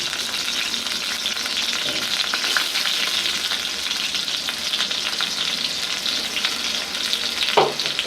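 Onions fry in oil in a village kitchen for a magur fish curry, a loud continuous crackling sizzle with a brief utensil knock near the end.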